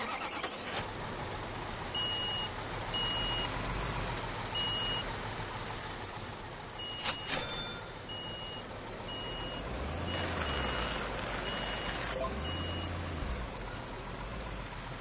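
A truck reverses in Construction Simulator 2015, its backup alarm beeping at a steady, evenly spaced rhythm over a low idling engine, with a brief clunk partway through and the engine note rising and falling near the end.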